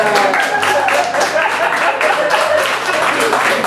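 A live audience applauds at a Dungeons & Dragons stage show in a dense, loud, continuous wash of clapping, with voices talking and calling out over it.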